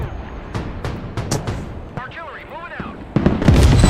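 Artillery barrages and explosions in the Broken Arrow video game, with sharp booming impacts and bursts at an irregular pace, plus whistling incoming shells, a heavy blast near the end, and a voice talking throughout.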